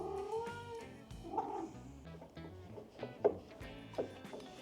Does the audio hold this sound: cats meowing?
yes